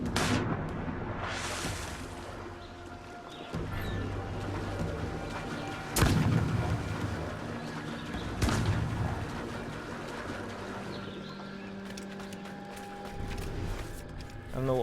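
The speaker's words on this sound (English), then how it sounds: "I don't know what was shooting at me" Gunshots and heavy booms in Assassin's Creed IV Black Flag hit in a few separate loud bursts over a steady background rumble of game ambience, with a player talking throughout.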